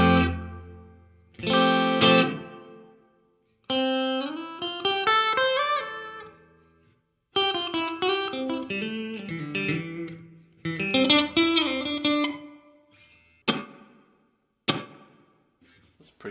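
Guitar played through a Donner delay and reverb pedal with the reverb decay set halfway: several strummed chords and note runs, each followed by a short reverberant tail fading into silence, with a couple of brief plucks at the end.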